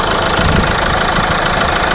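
A Mahindra XUV500 W8 with an unopened original engine idles close by, a loud, steady, dense rumble with a faint knocking texture and no voices.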